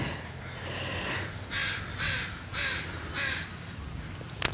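Crows caw outdoors in a series of four harsh calls at fairly even intervals, moderately distant over a breezy ambient background, with no talk.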